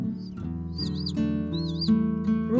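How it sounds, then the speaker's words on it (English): A chick peeps in a few high, wavering chirps over a steady background of music, close and fairly clear. "Chick."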